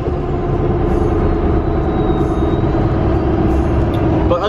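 Loud, steady diesel drone of a Duramax pickup fitted with a 68mm turbo, heard from inside the cab, with dense low rumble throughout and a faint whistle near the end.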